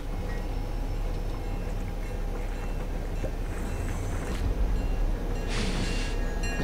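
Train in the video game Fortnite, a steady low rumbling roll with faint ticking clatter, continuous and fairly loud, with brief hissing bursts near the end.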